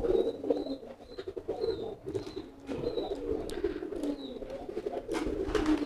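A homing pigeon coos in low, soft repeated phrases close by, with brief high chirps from other birds scattered across the few seconds.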